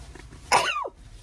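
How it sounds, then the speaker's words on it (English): A single close, loud sneeze bursts out in one explosive blast and tails off within about half a second, with quiet room tone before and after. "Oh, I feel a sneeze coming out."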